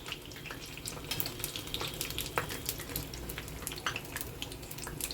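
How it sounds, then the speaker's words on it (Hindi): Pumpkin flower pakoras deep-frying in hot oil, a faint, even bubbling crackle with scattered small pops, steady throughout and heard alone. "हम फ्राई करते हैं अच्छी तरह से।"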